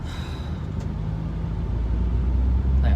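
A Proton Waja car cruises at speed, heard from inside as a steady low road rumble and engine drone, growing a little louder toward the end.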